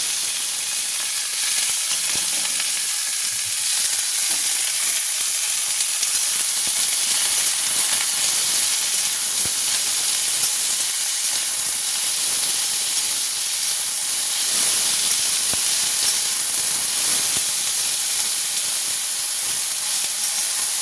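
Leafy greens hit hot oil with green chillies, releasing a loud, steady, hissing sizzle that runs close and unbroken for the whole stretch, with no voices.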